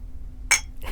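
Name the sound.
glasses clinking in a toast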